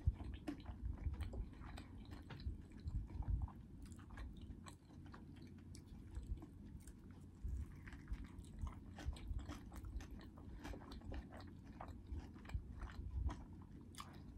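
Close-up chewing of a Brahms burger, steady wet mastication with soft crunches and small smacking sounds running continuously and quietly, with no talking.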